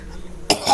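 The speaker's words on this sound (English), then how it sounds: "They're making me cough." A single abrupt cough, close and fairly loud, bursts out after a moment of near silence and trails into a rough throaty exhale.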